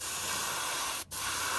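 Airbrush spray gun atomizing Mission Models acrylic paint thinned with poly additive, a steady close airy hiss that cuts out briefly for a split second before resuming.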